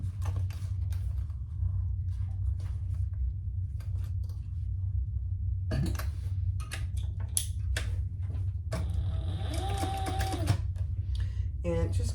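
A sewing machine stitching around a marked template on fabric, with quick mechanical stitching bursts starting and stopping over a steady low hum, close by.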